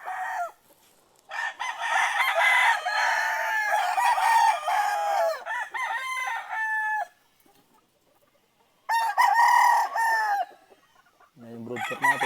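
At a Philippine gamefarm with a broodcock and hens in a breeding setup, a rooster crows loudly and repeatedly while hens cluck and chatter close by, the calls coming in long bursts with short quiet breaks between them.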